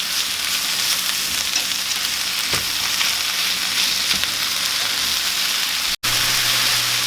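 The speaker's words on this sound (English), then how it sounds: "you're gonna saute this until it wilts down" Spinach sautéing in a pan for a spinach frittata, a steady loud sizzle that crackles on without pause and breaks off in one brief gap near the end.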